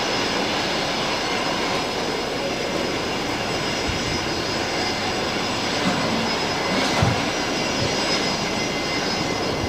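A Qantas jet airliner arriving from Port Moresby on the new parallel runway at Brisbane Airport gives a loud, continuous broadband engine roar that holds steady throughout with no talking.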